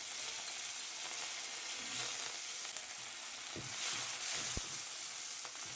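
Curry leaves, garlic and green chillies frying in hot oil, a dense continuous sizzle with faint crackles and a brief utensil tap.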